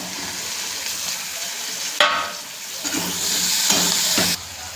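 Onion and tomato frying in a pan, a loud steady sizzle that surges sharply as the tomato goes in, with stirring scrapes over the hiss and a sudden drop near the end.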